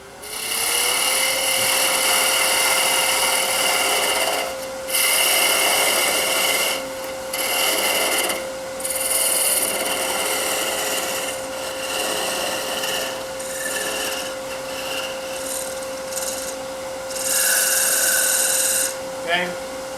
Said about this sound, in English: Now this I should take some sandpaper too